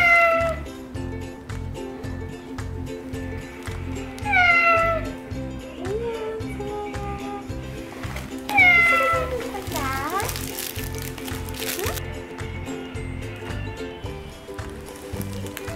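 Several cat meows, some high and drawn out, rise over a steady rhythmic background music bed, with a childlike voice joining near the end.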